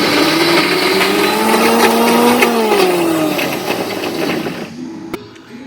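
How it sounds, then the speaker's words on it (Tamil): A mixer grinder whirs loud and steady as it grinds goat leg soup ingredients into a paste, its motor pitch sliding slightly before winding down to a stop near the end. "மிக்ஸி ஜாருக்கு மாற்றி ஒரு சுத்தம்னா நல்லா ரெடி ஆயிடும்."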